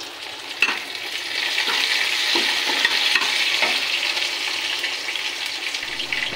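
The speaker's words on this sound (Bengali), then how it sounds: "পেঁয়াজটা হালকা লাল হয়ে আসলে এর মধ্যে কারি পাতা ধুয়ে রাখছিলাম সেগুলা দিয়ে দিব।" Curry leaves hit chopped onions and garlic frying in oil in a pan, giving a steady, close, crackling sizzle that holds for several seconds, with occasional stirring scrapes and no talking.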